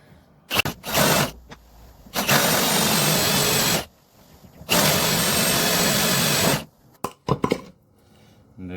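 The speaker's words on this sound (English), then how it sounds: "I'm going to rock it back and forth, and that should cut the plug a little bit smaller for me" A power drill cuts a wooden plug for a door repair, rocked back and forth in two long grinding bursts, each about one and a half to two seconds, with short clicks and handling noises between them.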